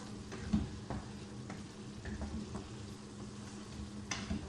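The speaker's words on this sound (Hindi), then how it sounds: "चिकन हमारा अच्छी तरह फ्राई हो चुका" Chicken fries in a pan with a soft, continuous sizzle and occasional light stirring clicks, quiet and close, with no talking.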